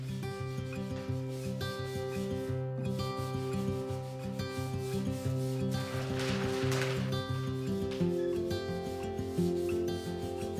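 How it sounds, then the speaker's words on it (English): A brass brush scrubs stripper-softened finish off the detailed surface of an antique desk in steady back-and-forth strokes, a close, continuous rasping rub with a faint musical tone in the background. "The brass also helps lift the finish residue out of all the little nooks and crannies without smearing it around."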